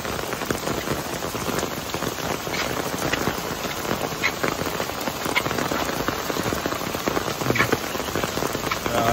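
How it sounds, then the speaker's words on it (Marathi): Heavy monsoon downpour in Mumbai, a loud, dense, unbroken patter of rain hammering on surfaces close by, steady throughout with sharper drop impacts scattered across it. "आणि खूप दिवसांनी असा पाऊस बघायला भेटतो आपल्याला एवढ्या जोरात"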